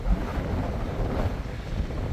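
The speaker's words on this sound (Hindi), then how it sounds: "बहुत तेज हवा चल रही है" Strong gusting wind in Harshil Valley, Uttarakhand, buffets the microphone with a steady, loud low roar throughout, with no voices over it.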